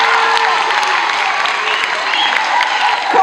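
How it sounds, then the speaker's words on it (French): A school event audience applauds in a steady, close wash of clapping with some crowd noise mixed in, holding at an even level throughout. "Est-ce qu'on peut applaudir pour moi"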